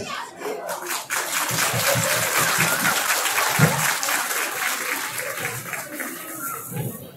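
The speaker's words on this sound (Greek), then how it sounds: "Μα ένα χειροκρότημα ίσως μας βοηθήσει." Audience applause at a Greek carnival satirical verse performance, a steady, dense wash of clapping that carries on throughout, loud and continuous with a few sharper claps standing out.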